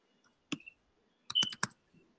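Typing on a computer keyboard: a single key click, a pause, then a quick run of four or five close, crisp keystrokes in an otherwise quiet room.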